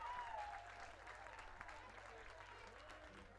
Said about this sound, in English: Listen to the crowd roar.